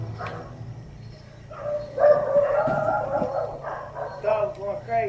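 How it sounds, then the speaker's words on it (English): A dog barks excitedly in a wooded area on the outskirts of Ceilândia, Brazil, with repeated yelps over a few seconds, partly masked by people talking over it. "dog's going crazy."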